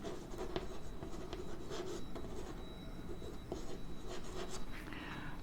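A pen scratches steadily across paper while labels are written onto a diagram of monocot embryo development, giving a continuous close rasping with short strokes and pauses.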